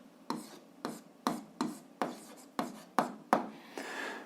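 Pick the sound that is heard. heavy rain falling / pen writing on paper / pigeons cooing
pen writing on paper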